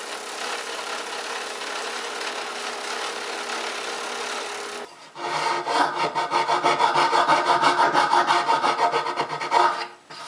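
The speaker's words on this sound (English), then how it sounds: "grit sandpaper does a good job cleaning up the curves" Pine wood being sanded by hand along its curves with sandpaper, a steady close rasping rub that turns into a louder rhythmic back-and-forth scrubbing about halfway through.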